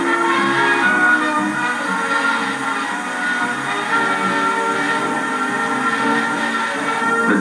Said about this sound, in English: went the honor of hauling the 30th anniversary Blue Train Special out of Johannesburg Station